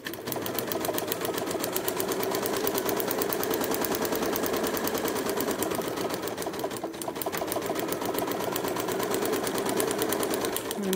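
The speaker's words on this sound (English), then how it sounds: "We're sewing between 1 and 2." A sewing machine stitches a quilt seam at a short 1.5 stitch length, giving a steady, fast mechanical whir and needle clatter that runs unbroken for about eleven seconds with no talking.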